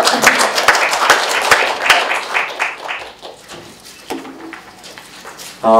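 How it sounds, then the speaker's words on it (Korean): Audience at a Korean press-awards panel discussion claps in a short burst of applause, dense at first then thinning and scattered before fading out. "박수 좀 쳐주세요"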